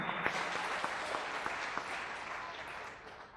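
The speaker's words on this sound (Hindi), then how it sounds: "जोरदार तालियां बजाएं यीशु के नाम को जलाल देने के लिए।" A church congregation claps to glorify Jesus, the applause heard as a faint, diffuse patter with sharper individual claps standing out at a loose, irregular rhythm.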